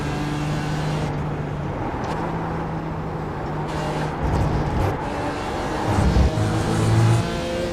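Production race cars in the iRacing sim drone steadily around VIR, with engine tones rising and falling through gear changes and a few louder revving swells as slower cars are passed, continuous and close.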